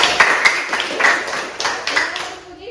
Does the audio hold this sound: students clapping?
yes